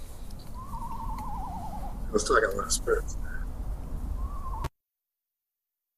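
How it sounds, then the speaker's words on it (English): An owl calls at night outdoors during a ghost-hunting paranormal investigation, giving a wavering, quavering hoot and then a shorter second call, moderately near, while people talk over the background hiss. "Great owl sounds"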